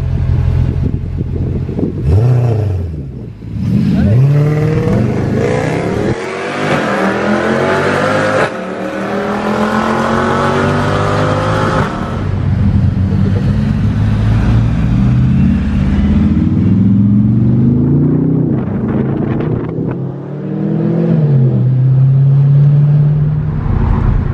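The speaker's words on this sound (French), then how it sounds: "à force de faire quelques revs dans la rue pour amuser la galerie" A four-wheel-drive car revved repeatedly in a street, its engine rising and falling in loud, close bursts with sweeping pitch changes over roughly twenty seconds.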